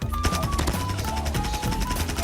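Rapid automatic gunfire from a PP19 Bizon SMG in Call of Duty: Mobile rattles in a fast, continuous burst, close and loud throughout.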